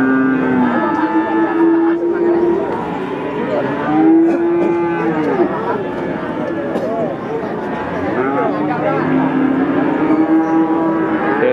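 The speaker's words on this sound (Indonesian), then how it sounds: "Deretan sapi-sapi tanggung" Cattle at the Waginan livestock market in Pati low and moo repeatedly in long drawn calls, loud and close over a busy crowd murmur with voices in the background.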